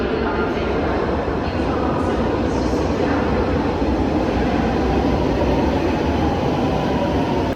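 A Milan metro subway train rides along in a loud, continuous rumble with rolling rail noise and faint clatter, heard from inside the carriage without a break.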